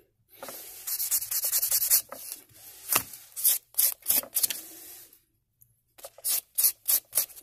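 A bone banjo nut is rubbed on a 320-grit pad in short, close, scratchy strokes, grouped in bursts with brief pauses between them.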